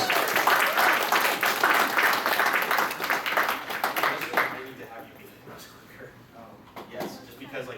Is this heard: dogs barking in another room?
no